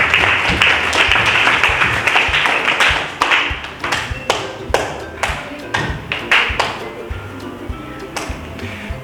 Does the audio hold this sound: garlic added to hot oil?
no